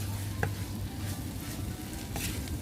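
Thai chili paste being stir-fried in a pan with sugar until it melts, a steady dense sizzle with soft scraping stirs throughout, alone and at moderate level.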